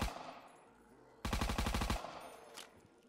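A Thompson submachine gun fires a rapid, loud automatic burst of about a dozen evenly spaced shots in Black Ops 3 Zombies, followed by a single fainter shot, against quiet background game noise.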